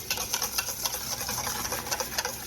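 Water, psyllium husk powder and flaxseed meal whisked in a bowl, a rapid rhythmic ticking and clattering of the whisk, close and steady with no voices.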